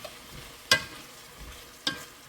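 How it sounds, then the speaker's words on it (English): Chayote with sardines and egg stirred in a pan, two sharp scraping clatters of a utensil against the pan over a faint background sizzle, no voices. "Stir it up."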